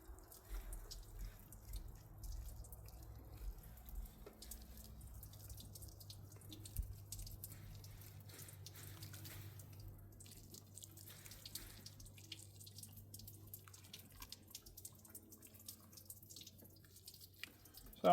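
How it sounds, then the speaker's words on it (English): Water drips steadily out of a travel trailer onto the ground outdoors in a driveway, a faint, quiet patter of small drops over a low background hum. "this is going to drip out and it could leave a stain"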